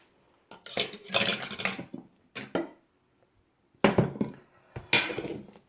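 About half a kilo of yogurt is beaten in a bowl, giving bursts of wet spoon-against-bowl clatter and scraping separated by short pauses, close and fairly loud, with no talking.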